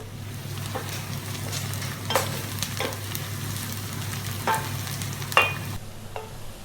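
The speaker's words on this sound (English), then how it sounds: "onion is getting nice and golden brown here" Onions frying for a chicken pepper curry, a steady sizzle in the pan with intermittent scraping stir strokes and light clinks of the utensil throughout.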